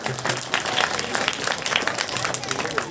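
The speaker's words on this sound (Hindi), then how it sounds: "तालियों के साथ इनका स्वागत किया जाए।" Audience at a Kendriya Vidyalaya school foundation day ceremony applauding a student, dense continuous clapping from many hands close by, lasting throughout.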